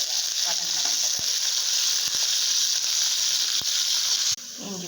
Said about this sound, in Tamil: சீரகம், கருவேப்பிலை, வெண்டைக்காய் வந்து இந்த ஓரமாக வதக்கி எடுத்து வச்சுக்கலாம்